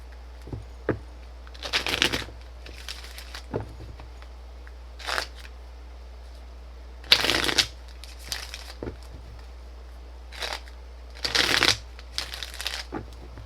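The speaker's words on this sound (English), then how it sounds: "Let me shuffle." Tarot cards are shuffled in several quick riffling bursts separated by short pauses, close and fairly quiet, with no talking.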